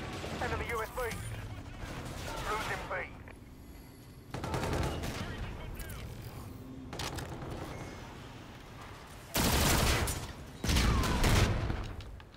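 Automatic fire from an X-EON assault rifle in a video game, coming as several loud, sustained bursts with gaps of quieter game ambience and occasional talk between them, and the heaviest bursts near the end.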